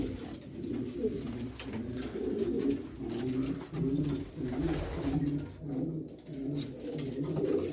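Homing pigeons coo in a loft, with a male and female being paired, giving repeated soft, throaty rolling calls in an uneven rhythm, close by and without talk.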